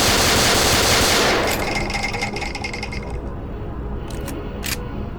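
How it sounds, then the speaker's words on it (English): Fully automatic shotgun in a Doom 3 mod firing a dense burst of rapid loud blasts that fades into scattered clicks and a few sharp mechanical snaps. "if you turn off both the laser and the flashlight, well, the shotgun becomes fully automatic"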